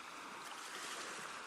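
Sheltered sea water runs gently in over rocks and down into rock pools, a steady soft wash with no individual waves standing out, close and continuous.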